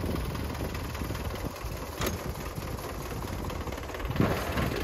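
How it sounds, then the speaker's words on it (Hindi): A 1994–95 Belarus Russian tractor engine idles steadily nearby with a continuous low rumble and vibration, holding an even level with a brief louder knock near the end and no speech. "ये रूसी ट्रैक्टर"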